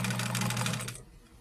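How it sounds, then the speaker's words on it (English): A sewing machine stitching quilt units together runs in a fast, steady whirring rattle for about a second, then stops, leaving quiet room tone. "we're ready to go back to the sewing machine now and continue joining units together"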